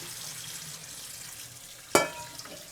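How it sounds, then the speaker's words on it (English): Cooked broccoli is drained out of hot water in one brief, close splash and pour that rises sharply above a faint, steady kitchen background, then quickly fades. "So what we want to do is drain it out of the hot water."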